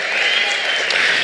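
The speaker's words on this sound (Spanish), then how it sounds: "Denle un aplauso al Señor en esta hora." A church congregation claps in a steady, dense wash of applause, continuous and even for a brief moment without distinct voices.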